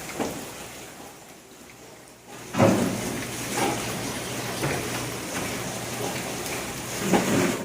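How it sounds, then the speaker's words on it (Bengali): Rain falls outside with a soft hiss, after a quiet start, joined by occasional knocks and rumbles of nearby movement. "বাইরে বৃষ্টি হচ্ছে।"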